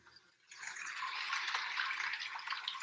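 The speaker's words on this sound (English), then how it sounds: "I woke up thinking there was water dripping somewhere" A water-dripping track from a noise app starts abruptly after a faint moment and then runs as a steady, soft trickling wash of water, continuous and even, with no voices.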